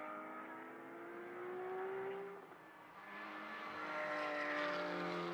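Ferrari GT race car at Mugello during a four-hour endurance race, its engine note rising and sweeping past loudly as it crosses the line, steady and continuous with other cars audible around it.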